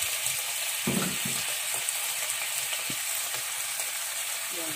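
Pork sizzling and frying in a pan as its fat renders out, a steady dense crackle held close throughout, with a few soft scrapes and stirring knocks along the way.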